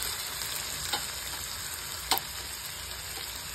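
Tomato cooking in a pan over a low gas flame, a soft continuous sizzle with a couple of sharper pops, steady and close, no voices.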